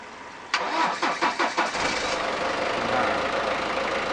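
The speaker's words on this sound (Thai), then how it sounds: "ผมอ่ะพร้อมแล้วสตาร์ทคันนี้ได้เลยครับ" A car is jump-started with heavy copper-core jumper cables: the starter cranks in about five quick rhythmic pulses, then the engine catches and settles into a steady, close idle.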